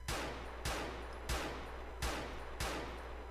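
An AK47 fires five evenly spaced single shots, each a sharp crack with a decaying tail, in the game GTA4 with the LCPDFR police mod, heard at moderate distance over a steady low rumble.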